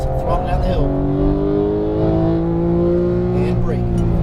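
A Porsche GT3 991 accelerates downhill on a race track at a high-performance driving event, its engine note climbing steadily, loud and close from inside the car, with a gear change near the end.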